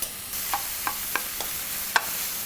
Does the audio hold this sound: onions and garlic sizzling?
yes